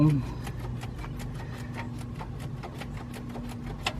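A wrench ratchets steadily in a tight engine bay, loosening a bolt on the power steering pump of an Infiniti I30/I35 or Nissan Maxima. The clicking is quiet, rapid and regular, with a low hum underneath.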